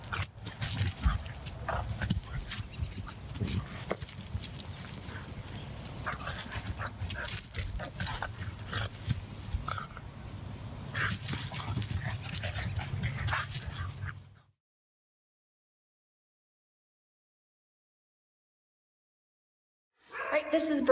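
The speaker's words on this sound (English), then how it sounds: "So we're going to take him out and let him do a little playing with other dogs." Several dogs, including a visiting bulldog, playing together outdoors in the rain, with steady close breathing and scuffling noises through most of the clip and a quiet stretch near the end.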